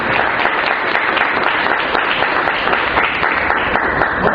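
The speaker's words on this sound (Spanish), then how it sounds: "den por este fuerte aplauso" A church congregation bursts into loud, sustained applause during a service, a dense and steady wash of clapping from many hands that holds at full strength throughout without talk.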